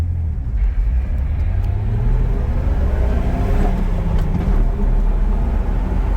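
Jeep Wrangler TJ with a manual transmission accelerating hard from a stop, its engine rumble rising steadily in pitch through the gears, loud and close with no talking.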